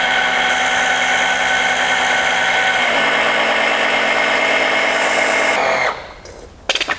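A pump circulates engine oil through the sump of a BMW M42B21 engine, giving a steady high-pitched whine that shifts pitch partway through, then cuts off near the end, followed by a few brief clicks.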